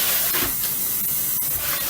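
Water sprayed over freshly cut kale leaves in a pot, giving a steady, close hiss that runs throughout with no talking.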